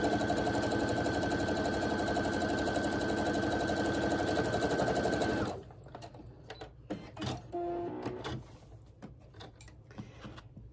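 A sewing machine stitches charm pack quilt squares in a loud, fast, rapid mechanical whir for about five seconds, then stops, leaving soft handling clicks and rustles.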